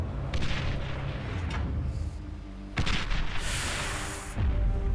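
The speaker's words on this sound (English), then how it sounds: "he's got an artillery tank firing over the mountain here" An artillery tank in the real-time strategy game Beyond All Reason fires in heavy booming shots. Several loud blasts land a second or so apart, each rolling off into a rumbling tail.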